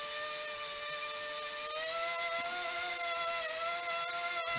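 A small RC helicopter, an Eachine E160 or XK K130, whines steadily at partial throttle, its rotor and motor giving a high, tonal, continuous hum with little change in pitch.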